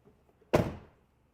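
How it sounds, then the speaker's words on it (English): A Tesla Model Y car door swings shut with a single solid, close thunk that decays quickly into quiet. "Close the door."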